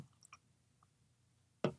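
Beer is poured from a can of a hazy, sweet-smelling Michigan craft beer, making a short, close, bubbly liquid gush that follows a few faint clinks in an otherwise quiet room.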